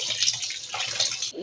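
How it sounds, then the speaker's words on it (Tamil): Cold water splashes and trickles into a pot of boiled vermicelli, a short steady pour lasting about a second and a half. "இது ரொம்ப குழையாமல் இருக்கிறதுக்கு கொஞ்சோண்டு பச்சை தண்ணி"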